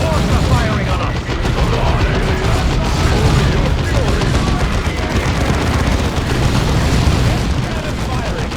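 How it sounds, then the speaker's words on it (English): Dense, continuous battle din from Warhammer 40,000: Dawn of War II, with booming cannon fire and explosions rolling together with gunfire, loud throughout and layered under game voices and shouted unit callouts. "Cannon firing! Clear the target area!"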